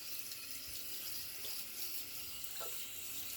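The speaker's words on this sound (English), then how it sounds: "So I'm just rinsing down the hairs I just trimmed off." Water runs from a bathroom sink tap to rinse away freshly trimmed beard hairs, making a continuous, fairly quiet rushing hiss with no talking.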